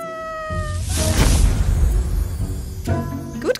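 A cat meows in a short, close, fairly loud call with a rising tone at the start and again near the end, over a noisy, busy background in a hide-and-seek challenge setting.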